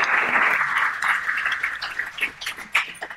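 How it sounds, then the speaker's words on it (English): Audience clapping at a live podcast recording, a dense steady patter of many hands that holds loud and even, then thins into scattered individual claps as it dies away. "Round of applause for them."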